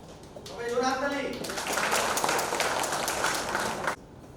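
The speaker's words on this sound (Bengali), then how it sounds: "সবাই জোরে হাততালি।" An audience at a company picnic event claps loudly in a dense burst that lasts about two and a half seconds and then stops abruptly, with a voice speaking briefly just before it.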